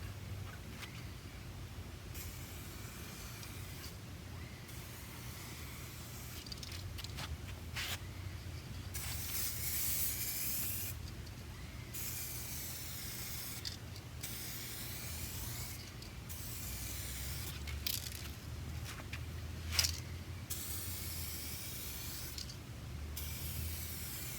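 A spray gun hisses steadily as a third clear coat goes onto a car panel, a soft continuous spray broken by short pauses between passes, close and alone without talk.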